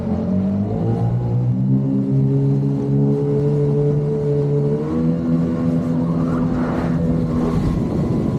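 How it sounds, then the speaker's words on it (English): A boat engine runs close by with a constant droning hum and slight pitch shifts, loud and continuous throughout. "Make sure this engine's running properly."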